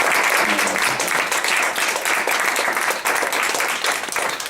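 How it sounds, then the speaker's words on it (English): Audience applause for panelists at a Capital Bikeshare equity forum: loud, dense clapping from a room of people, steady with slight swells, continuing throughout. "Let's put our hands together, round of applause for our panelists."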